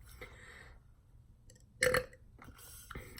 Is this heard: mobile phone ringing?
no